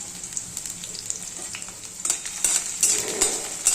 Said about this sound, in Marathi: आता हिरवी 2-4 मिरची टाकलेली आहे, ती थोडीशी फ्राय होऊन द्यायची तेलात.